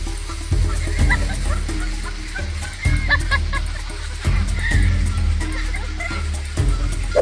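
A grumpy goose honks angrily at a gorilla in repeated loud, harsh bursts over a steady low rumble of background noise.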